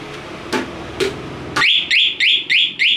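Alarm on a Honda CBR motorcycle being locked: a few soft clicks, then five loud, close, evenly spaced rising electronic chirps in quick succession.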